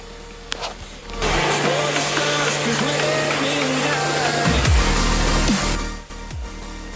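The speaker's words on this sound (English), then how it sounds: "clear it off with the power washer about 38 years of dirt" A power washer blasts decades of dirt off the underside of a Golf Mk1 1.8 20VT project car, a loud steady hiss lasting several seconds before it cuts out near the end.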